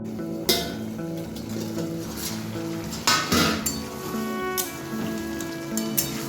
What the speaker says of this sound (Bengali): একটা ঢাকা দিয়ে দেবো।